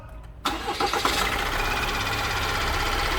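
An Opel Astra K engine with a timing chain noise starts up with a sharp onset, then settles into a steady, close, loud idle with a mechanical rattle running underneath.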